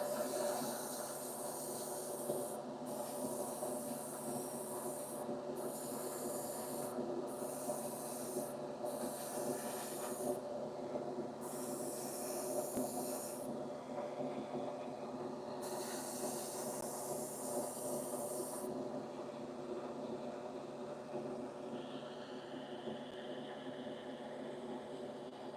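An airbrush sprays urethane paint onto Corvair interior parts, giving repeated bursts of steady hiss of a few seconds each with short pauses between, close and fairly loud over a constant background hum.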